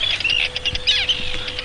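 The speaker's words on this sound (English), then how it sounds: "they're squawking and calling all the time." Seabirds nesting beside a boardwalk on the Farne Islands squawk and call, with dense overlapping chirps and cries running without a break, close by and fairly loud.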